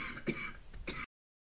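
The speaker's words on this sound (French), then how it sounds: "je suis obligée de moucher et tousser régulièrement" A woman who is ill clears her throat and gives a short cough, two quick close bursts before the sound cuts off.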